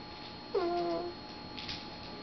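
A single cat meow rises over a quiet room with faint background noise, short and fairly close, with no talking around it.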